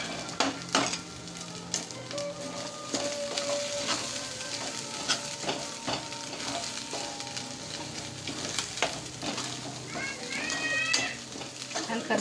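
Chicken masala spices roasting and sizzling steadily in a hot pan, with a continuous close frying crackle and occasional clinks of a spoon stirring against the metal throughout.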